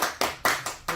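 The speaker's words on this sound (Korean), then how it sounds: "박수 쳐줍니다" Four sharp, evenly spaced hand claps in quick succession during a Korean talk on a health product, close and fairly loud, each decaying before the next.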